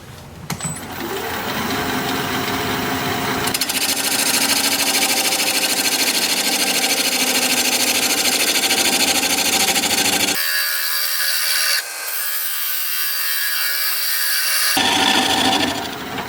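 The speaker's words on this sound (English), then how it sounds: "we've been turning at 800 RPM, still are, with a 5/8 inch bowl gouge" A wood lathe spins a bowl blank at 800 RPM while a 5/8 inch bowl gouge cuts it, producing a continuous loud, rasping scrape that shifts in tone as the cut changes and briefly thins before resuming.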